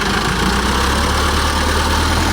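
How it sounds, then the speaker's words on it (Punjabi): A tractor engine runs steadily while the machine is pulled out of deep mud where its tyres have sunk, a loud continuous low rumble that holds without a break and with no voices. "ਬੜੀ ਟੈਕਨੀਕ ਦੇ ਨਾਲ ਜਿਹੜਾ ਇਹ ਹੁਣ ਟਰੈਕਟਰ ਕੱਢਿਆ ਜਾ ਰਿਹਾ ਜੀ"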